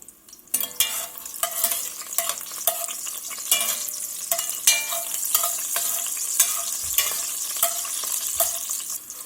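Garlic toasting in hot oil for Tuscan peppery beef, a close, steady sizzle punctuated by frequent rhythmic stirring scrapes and taps of a utensil against the pan.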